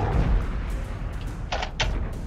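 Two sharp cannon blasts fire in the video game Guardian Duo 2, a pair of loud booms about a third of a second apart over a steady game backdrop.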